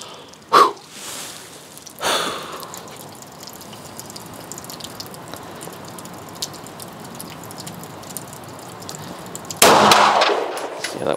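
Pistol shots ring out at a Swiss-style 50 and 25 m shooting range, with a few sharp, loud reports spaced apart and a steady hum of range background between them.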